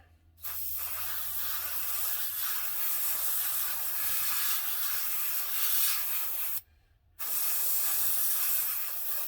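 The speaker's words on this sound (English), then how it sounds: "I'm going to spray the bomb bay door" An aerosol can of spray paint sprays in a long, steady hiss, breaks off briefly, then resumes for a second burst, close by, painting a model airplane's bomb bay door.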